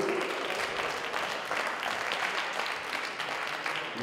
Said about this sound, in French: Vous pouvez l'applaudir parce que c'est bien de vous.